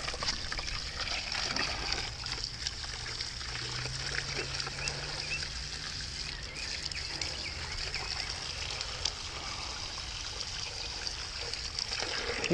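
Water trickles and dribbles steadily nearby from a leaking container used for soaking a whitetail buck skull, a soft continuous splashing leak with faint background hiss and no talking.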